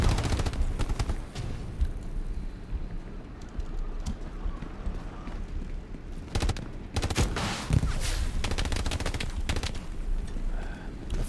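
Sustained gunfire in the World War II shooter Hell Let Loose during an anti-tank fight around Carentan, with dense bursts of rifle and machine-gun shots cracking near and far over a constant battle din, and heavier blasts around the middle.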